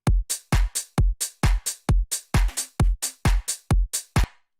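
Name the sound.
basic drum loop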